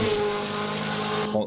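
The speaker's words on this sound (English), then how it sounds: "I heard a car engine" Car engine running steadily and fairly close, a sustained hum with a slight rise in pitch before it cuts off near the end.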